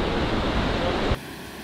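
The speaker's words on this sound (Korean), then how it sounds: "파도 좋다." Ocean surf breaking at a surf spot on Australia's Gold Coast, a dense, steady roar of crashing water close by that cuts off abruptly partway through.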